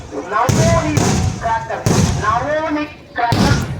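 Sivakasi firecrackers going off at the Madurai Kaliamman temple festival in Thottiyam, Trichy: three loud, sharp booms a little over a second apart, heard beneath an announcer's continuous talk.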